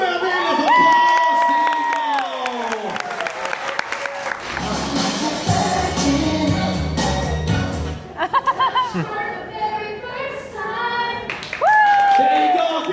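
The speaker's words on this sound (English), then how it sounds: "Give it a round of applause," Clapping and cheering from an audience aboard a large Royal Caribbean cruise ship, a busy wash of applause and voices in the middle of the sound that fades as music and talk come in around it.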